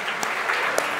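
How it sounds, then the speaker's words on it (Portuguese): Church congregation applauding after a prayer, a short burst of steady, fairly loud clapping from many hands. "você pode aplaudir ao nome de Jesus."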